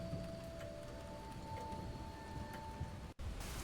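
Steady rain from the video game Ten Bells hisses evenly across the whole stretch, a constant wash of falling water with no voices, broken only by a brief dropout near the end.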